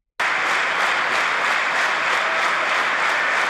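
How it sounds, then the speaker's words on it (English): Audience applause greets Netanyahu on his US tour, a dense, sustained wall of clapping that starts abruptly and holds loud and even to the end, with no voices over it. "Clapping for Hitler."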